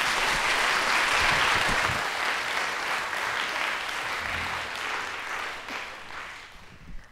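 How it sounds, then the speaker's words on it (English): Loud, sustained audience applause at a high school band concert, dense clapping filling the hall and slowly tapering off toward the end. "One more quick round of applause."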